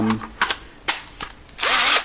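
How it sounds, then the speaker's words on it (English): A power drill whirs in a few short bursts, then runs in one longer, louder stretch near the end. "Basically just plug our drill in."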